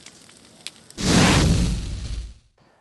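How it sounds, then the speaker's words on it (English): A roaring bonfire at Emsley Lodge flares up loudly and steadily for over a second, a dense rushing crackle that holds and then cuts off abruptly, with quieter ambience before and after. "it's certainly this bonfire"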